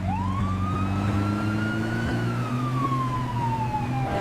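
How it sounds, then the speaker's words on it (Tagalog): A police car siren wails, rising then slowly falling in a long sweep, loud and close over a steady low engine rumble, with no talking. "Naririnig ko na ang tunog ng mga pulisya."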